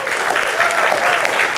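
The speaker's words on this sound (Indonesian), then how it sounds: "Tepuk tangan dulu." Brief, steady burst of audience applause at a public speech in Indonesia, many hands clapping in a dense, even roar with no break.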